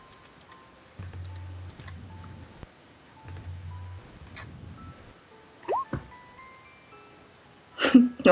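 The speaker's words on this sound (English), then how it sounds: "I will wait while typing occurs." Someone types on a computer keyboard, producing faint, scattered key clicks in short irregular runs over a quiet low hum, with a couple of louder knocks near the end.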